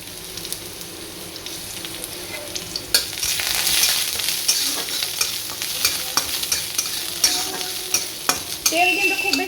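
Garlic and onion fry in oil in a home kitchen, a steady crackling sizzle with stirring scrapes that grows louder partway through, with sharp pops and clinks of a utensil against the pan throughout.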